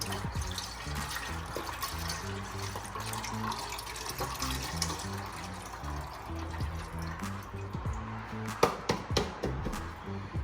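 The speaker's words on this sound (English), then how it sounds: "now we're gonna also add some water to this now" A steady stream of water runs and splashes into a pot, gurgling continuously with a few brighter splashes near the end.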